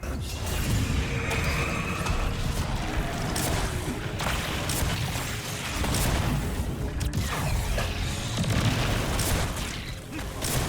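Rocket explosions and heavy impacts from the video game Destiny 2 boom repeatedly in a dense, loud, continuous stretch of game combat, with no voices heard.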